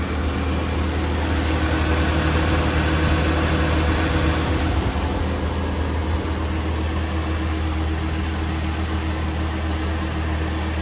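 Dodge Durango crew-cab AWD with a 3.6 liter engine idling, a steady low rumble with a constant hum running unbroken and fairly loud, no one talking over it.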